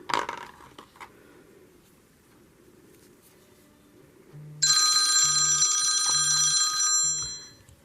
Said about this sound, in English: I had to answer the phone.